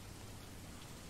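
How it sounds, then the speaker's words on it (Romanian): Glitched rain sound in the Roblox game Jailbreak, a faint, flat, continuous hiss like steady rainfall with no variation or voices. "Și sunetul ăsta de la ploaie s-a stricat."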